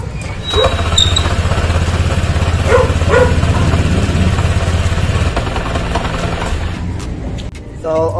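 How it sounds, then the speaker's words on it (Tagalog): A Honda Click 150 scooter with a loose thread on its torque drive nut runs with the rear wheel spinning, a steady close engine hum that dips near the end, with a brief voice over it. "meron na din po siyang ingay at umiikot po yung kanyang gulong pagka umaandar po yung kanyang makina"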